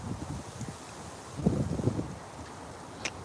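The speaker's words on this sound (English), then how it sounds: "It's kind of windy out here." Wind blowing outdoors, a soft, steady rush against the microphone with a few louder buffeting gusts midway and a faint rustle, no talking.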